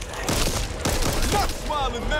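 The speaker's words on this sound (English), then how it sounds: "Watch out for that spider guy, he about to shoot stuff" A spider enemy in the video game Back 4 Blood fires, a rapid burst of loud booming shots and impacts mixed with game effects, while players talk over the gunfire.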